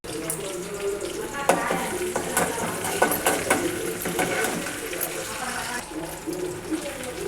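Curry leaves crackle and sizzle in hot oil in a kadai, a steady, close, rushing hiss with scattered sharp pops throughout.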